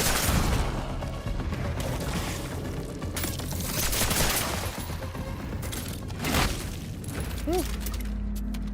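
Gunfire from a weapon in the video game Cronos: The New Dawn, dense bursts of shots and booms running through most of the clip with game effects, plus a brief exhale from a voice.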